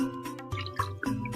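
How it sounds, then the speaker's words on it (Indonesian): Water drips off the leaves of an aglaonema houseplant just sprayed with water mixed with a B1 solution, giving a few soft, close wet drops and splats over a quiet room. "Tuh daun-daunnya juga saya siram menggunakan air yang telah bercampur dengan larutan B1"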